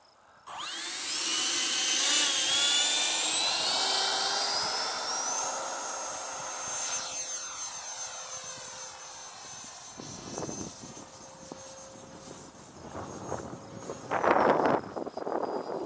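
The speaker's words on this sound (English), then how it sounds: "This is my 90 millimeter Stinger Freewing." A yellow Freewing 90 mm Stinger RC jet roars past with a loud, rising turbine whine that sweeps and fades as it flies by. It stays quieter for a stretch, then swells again near the end outdoors.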